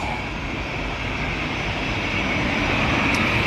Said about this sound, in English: So we'll get this Aer Lingus now taxiing on, get some detail.